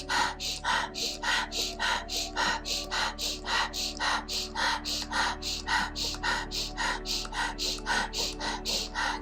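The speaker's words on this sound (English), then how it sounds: "keep breathing in and out through the nose, or in through the nose, release through the mouth" Deep rhythmic breathwork during a meditation practice, about twenty forceful breath cycles in a steady even pulse, close to the microphone over a soft sustained musical drone, with no talk.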